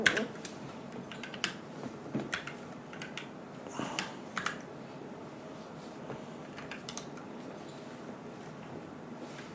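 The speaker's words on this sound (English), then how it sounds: "This isn't the way of my typing." Scattered keystrokes on a laptop keyboard, faint and close, arriving in short irregular bursts with quiet pauses between.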